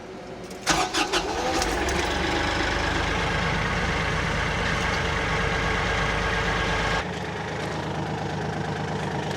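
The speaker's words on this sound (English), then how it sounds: "let me bring the mower back down and give that a shot" A tractor engine runs steadily and fairly loud while the mower is lowered, with a rising clatter near the start and a steady mechanical drone until the sound drops to a lower idle toward the end.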